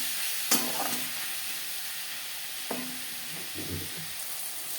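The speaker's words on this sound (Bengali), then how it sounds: "লবণ হলুদ পেঁয়াজ টমেটোর সাথে বেশ ভালো করে মিক্স করে দেব।" Onion, tomato, salt and turmeric being stirred in a frying pan for bhetki fish-bone chorchori: a soft steady sizzle with a few distinct spatula scrapes and clacks against the pan, close by.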